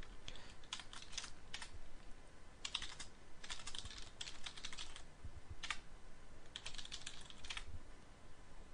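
A command is typed on a computer keyboard during a Git tutorial. Steady clusters of key presses come in bursts with short pauses between them, close and fairly quiet, with no talking.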